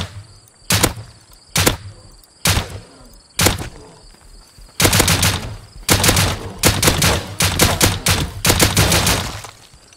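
Gunfire in the survival game Rust: a few isolated loud shots spaced about a second apart, then rapid bursts of repeated shots firing close and loud, with no talk over them.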